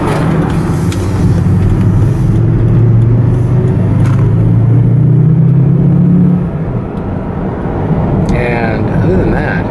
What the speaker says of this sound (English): This car, I don't know what to call it. It just drives so nicely.